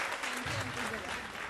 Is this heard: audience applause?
yes